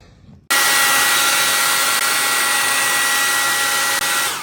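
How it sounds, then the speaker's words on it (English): After a brief quiet moment, a hair dryer switches on and blows with a loud, steady roaring hiss that continues to the end. "You come in with a hairdryer"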